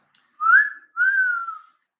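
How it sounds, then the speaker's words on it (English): A person gives a wolf whistle: a rising then falling two-note whistle, clear and close, alone against silence. "Just randomly, I'm going to wolf whistle Amy Adams."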